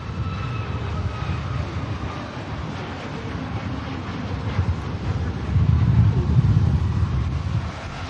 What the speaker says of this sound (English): Aer Lingus A330 for Bridgetown